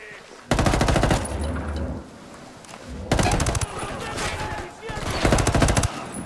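Bursts of automatic gunfire in Ghost Recon Wildlands, three loud sustained volleys separated by short gaps, close and dense, with voices talking beneath the shooting.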